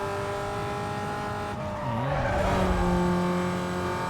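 A car engine revs hard in the racing video game Need for Speed: Most Wanted (2005), a loud continuous drone with a pitch that drops and climbs through a gear change, plus a brief tire squeal, no talk.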